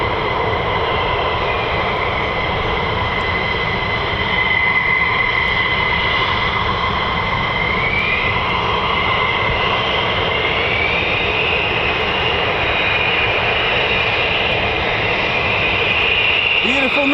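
US Air Force F-15 and F-35 fighter jets at RAF Lakenheath with the 48th Fighter Wing, loud sustained engine roar and whine at close range, building slightly toward the end.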